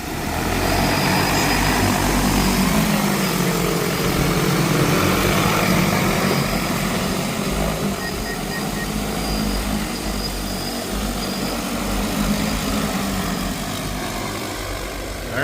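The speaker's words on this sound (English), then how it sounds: "Aircraft preparing to take off." A propeller aircraft runs on the ground ahead of takeoff, its engine giving a loud, steady, continuous drone that holds close and even throughout without a pause.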